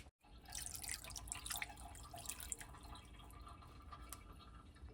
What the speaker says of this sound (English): And then we'll add about a cup of water to it.